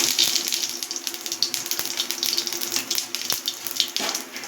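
Cumin and dried chili tempering in hot oil in a kadai gives a steady, close, bright sizzle and crackle with occasional sharper pops, with no talking.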